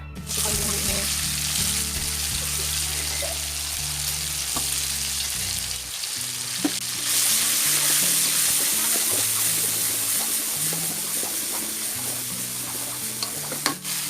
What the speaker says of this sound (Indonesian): Kita mulai menumis saja ya